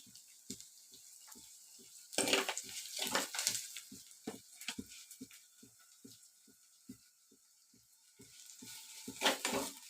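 Onions sauté in a pan for a crab gravy with a soft sizzle and quick, regular ticking taps, then louder hissing bursts of stirring that come and go.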